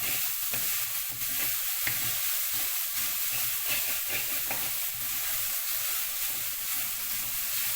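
Gooseberry thoran cooking in a pan over a low flame makes a constant close sizzle and hiss, with faint stirring and no talking.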